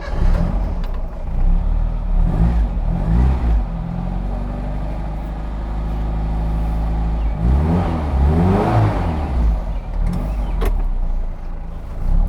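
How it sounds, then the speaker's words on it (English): Turbocharged Mini Cooper cafe racer driving, its engine loud and close with steady harmonic drone that rises and falls as it revs through gears, swelling strongly near the middle. "Let's go for a ride in Rusty Buckets Turbo."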